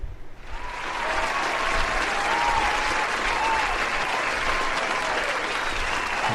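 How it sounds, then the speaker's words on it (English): Crowd applause swells in after a brief quiet start and holds as a dense, even roar of clapping through to the end. "get some applause going for this"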